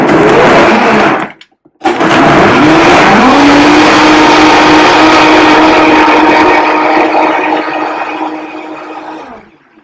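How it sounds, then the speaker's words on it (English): A loud blender whirs steadily while blending a smoothie, briefly stopping then restarting, its motor pitch settling and rising as it churns, fading off at the end. "And I'm going to blend it all up."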